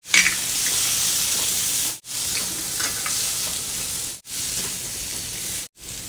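Bell peppers fry in hot oil with pickle masala, giving a loud, bright, continuous sizzle that is cut by three brief silent gaps, with faint stirring scrapes beneath and no voice.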